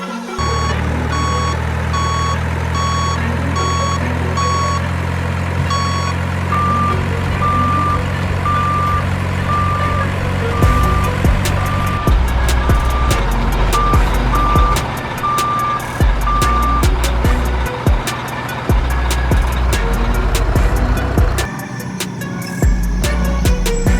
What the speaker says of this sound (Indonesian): dump truck adalah mobil yang mempunyai dam yang besar di belakangnya